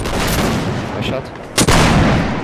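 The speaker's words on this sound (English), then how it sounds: "Dirk has started firing at the second fortress" Musket gunfire rings out in a siege on a fortress in the video game Napoleonic Wars: a loud, dense wash of shots with a sharp, heavy crack just past the middle, with faint voices mixed in.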